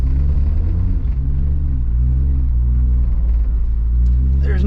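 A 700hp 2JZ-engined JDM Toyota Supra accelerates with a steady, loud low rumble that holds throughout, with light harmonic shifts and a brief higher-pitched burst near the end.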